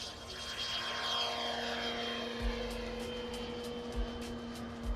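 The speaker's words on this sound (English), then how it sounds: "So this is a turboprop. It's a turbine and a prop." A turboprop model aircraft flies at an outdoor wing show, a steady whining turbine tone with a propeller drone that sweeps past in the distance, under faint wind buffeting and low thumps.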